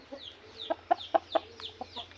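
A fighting rooster gives a run of close, fairly quiet clucks, about a half-dozen short rhythmic calls over a low steady background hum.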